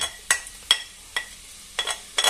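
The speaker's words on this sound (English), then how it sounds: "sausages and the onion, and I'm going to just gently leave it there to fry." Sausages and onion frying gently in a pan, with a low steady sizzle and several sharp clacks of a utensil against the pan at irregular intervals, close by with no talk.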